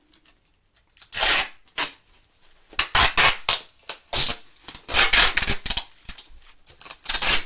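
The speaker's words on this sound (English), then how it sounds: "A bit of brown tape on it." Brown packing tape tears off a roll in a series of loud, close, ripping pulls, several quick strips in irregular rhythm while packing an item for shipping.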